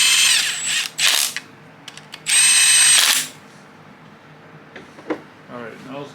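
A power tool runs in the timing gear bolts during a Cobra engine cam install. It gives several short loud whirring bursts of drilling with ratchety clicks between them, plus brief talking near the end.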